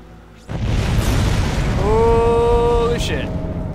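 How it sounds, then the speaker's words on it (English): A thermite bomb bursting in the Dead Space video game: a sudden loud boom that swells into a sustained roaring rumble, with rising tonal whines and a sharp crack near the end. "that thermite bomb just blew up right in front of my fucking face"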